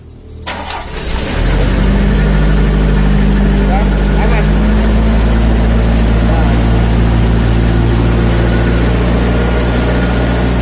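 A Miller Big Blue 500X Eco Pro engine-driven welder cranks and starts, then settles into a loud, steady, close engine drone with a low hum that holds to the end, with faint voices in the background.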